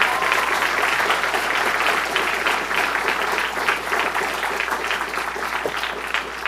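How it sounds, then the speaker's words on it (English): Audience at a CreativeMornings talk in New York gives a sustained round of applause, a dense, even patter of many hands that stays strong for over six seconds and eases slightly toward the end. "let's give them a round of applause."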